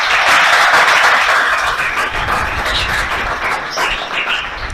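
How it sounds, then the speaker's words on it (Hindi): A classroom of students applauds for a fellow student, a dense burst of many hands clapping at once that slowly thins out over several seconds. "चलो ठीक है, मन्नत के लिए भी ताली बजा दो भाई।"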